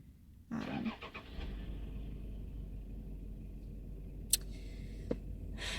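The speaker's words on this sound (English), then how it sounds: "The car next to me is just going." A car engine idles steadily in the neighbouring parked car, a low continuous rumble close by with a couple of brief clicks partway through.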